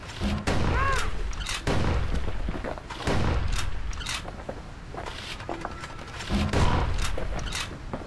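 Gunshots from the Kid's gun in the action game Bastion, a series of loud booming blasts fired in quick succession with brief gaps, up close over game ambience.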